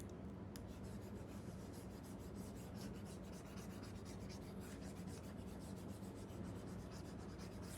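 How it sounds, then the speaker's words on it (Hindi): A duster or cloth rubs steadily across a board to wipe off maths writing in a tuition class, a continuous faint scraping and rasping with no talk over it. "एक मिनट इसको रब कर देते हैं।"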